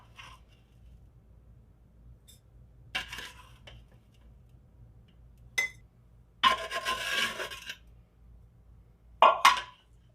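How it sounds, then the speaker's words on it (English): A clean spoon scrapes and taps as ground cordyceps is scooped from a food processor into jars, giving a few short clinks and one longer rasping scrape between quiet pauses, close and moderately loud. "I'm just going to use a clean spoon and spoon our material into our jars"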